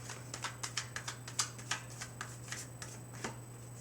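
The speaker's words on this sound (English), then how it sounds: "Oops, dropping cards." Tarot cards are dropped and handled, making a rapid series of crisp papery flicks and slaps, about a dozen sharp taps in an irregular rhythm over a faint steady electrical hum.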